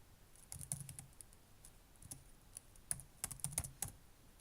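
Fast bursts of soft keystrokes on a computer keyboard as a command is entered, irregular clusters of clicks with short pauses, close and quiet with no one talking.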